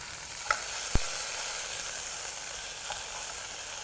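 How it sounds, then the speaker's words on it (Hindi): Sliced onion sizzles steadily in hot oil with whole spices for Lucknowi pulao, a continuous bright frying hiss broken by a couple of soft stirring knocks near the start. "अभी हम प्याज डालेंगे"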